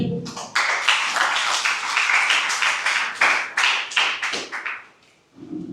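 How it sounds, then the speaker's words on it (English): An audience applauds to welcome quiz contestants at a school inter-house quiz competition, with steady, dense clapping that fills nearly the whole stretch before thinning out near the end. "Let's welcome everyone with a round of applause"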